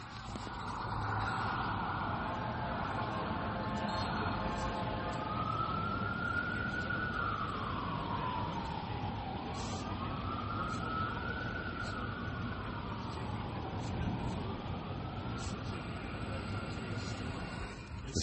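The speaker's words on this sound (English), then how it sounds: "whenever you hear sirens, that don't mean it's the police" Emergency vehicle sirens wail on a city street in Milwaukee, a loud rising and falling tone sweeping steadily over constant traffic rumble, close and unbroken for the whole stretch.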